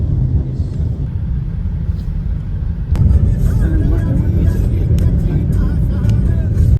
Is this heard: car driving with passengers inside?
yes